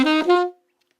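A single woodwind phrase from the Super Mario Bros theme, a few quick breathy notes lasting about half a second, then silence.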